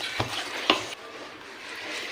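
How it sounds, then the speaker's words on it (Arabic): Chopped parsley is stirred into a chard and chicken gratin mixture. Two quick spoon scrapes and clinks come close up, then only a soft, quiet background remains. "نضيف البقدونس تاعنا كما تشوفوا ونحرك"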